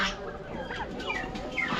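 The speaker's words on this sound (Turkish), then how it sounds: "Ya bu kadar büyük horoz görmüş müydün ya bu ne?" A rooster clucks and calls repeatedly at moderate distance in a crowded market in Osh, Kyrgyzstan, with other fowl sounds and faint background murmur.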